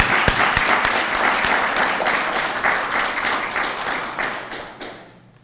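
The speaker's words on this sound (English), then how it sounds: "A round of applause, please." Audience applause at a special event, a dense burst of clapping that stays strong for several seconds and then thins and fades out at the end.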